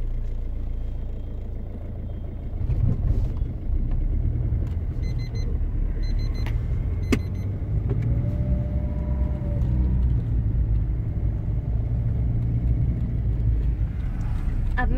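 A car engine rumbles low and steady as the driver, barefoot, slowly releases the clutch, the idle hum rising slightly in load with a faint beep partway through.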